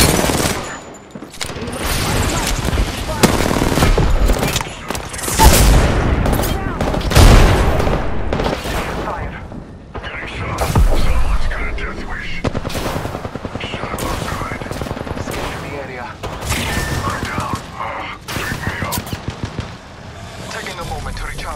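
Gunfire in the video game Apex Legends, with loud bursts and rapid automatic fire through the stretch, mixed with explosive booms and game voice callouts over it.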